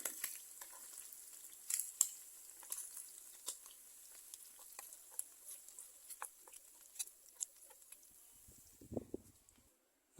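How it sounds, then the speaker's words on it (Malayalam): Faint, crackly spitting and popping of sardines frying in oil, irregular small pops continuing quietly throughout. "നമ്മുടെ മത്തി നന്നായിട്ട് ഫ്രൈ ആവുന്നുണ്ട്"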